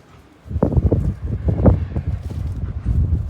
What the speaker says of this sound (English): Oh, it's going to be windy over here.